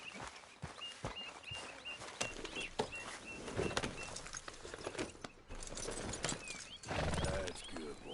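Horse hooves clip-clop at a steady walking pace while riding in Red Dead Redemption 2, moving through an outdoor scene with birds calling and occasional ambient rustling in the background.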